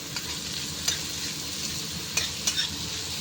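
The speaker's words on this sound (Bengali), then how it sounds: "পেঁয়াজটা ভেজে নেব ভালো করে" Onions sizzle steadily in hot oil while a utensil scrapes and stirs the pan, with a few sharper clinks of metal against the pan.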